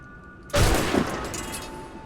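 A single loud gunshot in Assassin's Creed Rogue cracks suddenly and then trails off into a lingering echo, with no talking.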